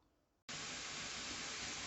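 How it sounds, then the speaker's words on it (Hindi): Water boiling hard in a cooking pot before rice goes in, a steady loud hiss and bubbling roar that switches on abruptly after a brief near-silence and holds unbroken to the end. "पानी उबल रहा है"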